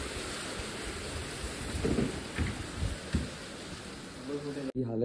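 Monsoon rain in coastal Murud falling as a continuous wash, with swelling rushes and dull rumbles through the middle and a brief drop near the end, no clear talk.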